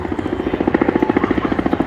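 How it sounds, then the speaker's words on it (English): A helicopter flies close overhead in a Brooklyn street, its rotor throbbing in a fast, loud, steady pulse. "there's another chopper right here"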